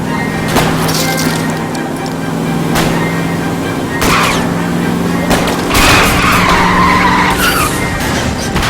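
A car chase in the video game L.A. Noire, loud tire skids and screeches with engine roar and several sharp gunshot-like cracks, brief voices in the mix.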